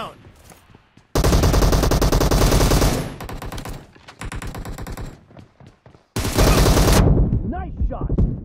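Automatic gunfire in the mobile shooter PUBG Mobile: loud sustained bursts of rapid shots separated by short pauses and quieter single cracks, with game effects between bursts.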